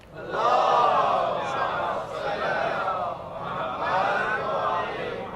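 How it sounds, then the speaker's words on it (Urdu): A large gathering at a Shia majlis during a Safar night chants a salawat in unison, a loud sustained roar of many voices rising and falling in waves. "نعرہ صلوات"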